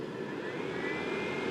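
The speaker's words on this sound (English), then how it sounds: "So I finally warmed up the inverter enough that its internal fan came on." Internal cooling fan of a Harbor Freight Jupiter 2000 watt inverter running outdoors in cold weather, a steady close whooshing whir with a faint tonal hum, continuous and unbroken.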